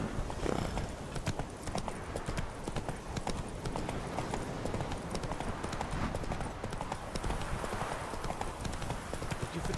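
Horse hooves clip-clopping at a steady trot in The Witcher 3: Wild Hunt, a continuous rhythmic gait of close, even hoof strikes with a light game soundscape underneath.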